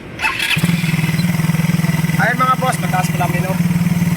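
A motorcycle engine catches after a brief start and settles into a steady, throbbing idle, with someone talking over it partway through.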